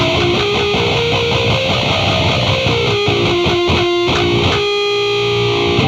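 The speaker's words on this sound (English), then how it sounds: "I'll put the distortion back on again so you can hear it better." An electric guitar plays pinch harmonics through heavy distortion in a metal style, loud and close, with sustained squealing overtones riding over gritty, buzzing notes.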